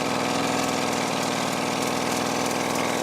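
A Suzuki LT 50cc mini quad's small engine idles steadily right after starting, close and continuous with an even buzzing putter and no voices.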